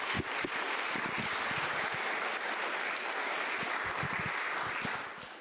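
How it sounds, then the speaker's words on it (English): A round of applause from the audience at an all-employee meeting, steady dense clapping at a moderate distance that holds for about five seconds before easing off at the end. "Let's give them a round of applause"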